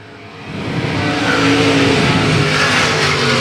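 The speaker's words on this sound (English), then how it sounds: "And once again, the 222 cars racing side by side." Race cars run side by side at South Texas Speedway, their engine roar swelling from a moderate level to a loud, sustained wash of noise with a hint of tire squeal.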